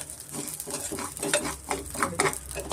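Sago pearls fry and puff in ghee, a close, crackling sizzle with irregular stirring scrapes and light pops rising and falling throughout.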